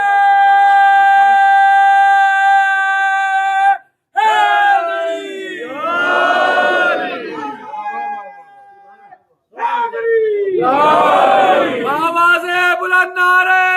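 Congregation at a Muharram majlis chanting salawat in loud unison, sustained tonal group voices in two strong bursts separated by a brief pause, with reverberant hall echo.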